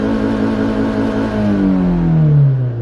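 A car engine revs up steadily as the gas pedal is pressed toward full throttle, a loud continuous drone with a falling-then-rising pitch, no talk.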